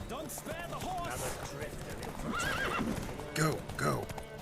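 Horse hooves clip-clop at a gallop during a horse race in The Witcher 3 video game, with neighs and whinnies ringing out over a rider's shouting voice, the rush of game sound layered beneath.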